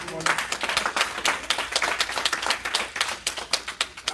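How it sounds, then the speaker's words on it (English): Congregation clapping hands in praise during a church service, with rhythmic, distinct claps and some voices mixed in underneath. "give the Lord a hand clap of praise this morning"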